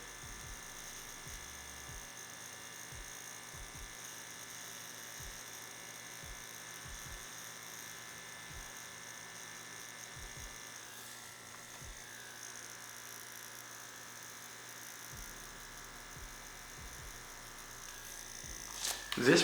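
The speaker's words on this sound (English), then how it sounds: "Now the Dragonhawk X8 tattoo machine is a 4mm stroke." A Dragonhawk X8 tattoo machine with a 4mm stroke runs continuously, a faint steady high electric buzz with soft rhythmic ticks underneath, getting louder at the very end.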